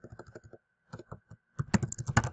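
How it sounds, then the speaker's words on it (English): Keys clatter on a computer keyboard in quick bursts, a short run of taps, a pause, then denser faster typing, close and fairly quiet with no talking. "And maybe I started typing"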